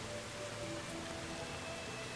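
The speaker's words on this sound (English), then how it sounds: "I hate it when it rains in this." Rain in the video game Medieval Dynasty falls as a steady, even hiss of drops, constant and unbroken, with faint tonal game sounds underneath and no speech.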